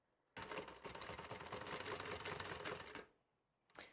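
A sewing machine runs in one fast, steady burst of stitching past the handles of a bag. It is close and rattly, then stops abruptly, and a brief restart follows.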